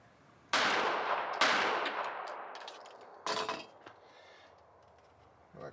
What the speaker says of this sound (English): I'm just gonna squeeze a few more rounds because I have a magazines loaded from yesterday's competition